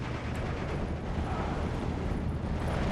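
Mortar shells exploding in a Steel Division 2 battle for a hilltop near Slutsk, a continuous dense rumble of distant blasts with no voices.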